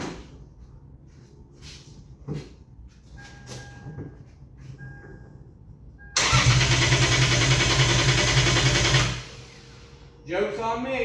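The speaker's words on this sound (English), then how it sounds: "enjoy the cold start." A turbocharged Lexus IS300 cold-starts and idles loudly and close up with a raw, buzzy engine note, cutting off after a few seconds; quieter surroundings and brief talk come before and after.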